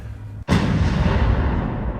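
A single heavy boom from the Big Bertha, a massive First World War artillery gun firing 800 kg shells, bursting in abruptly after near silence and rumbling away over the next second and a half.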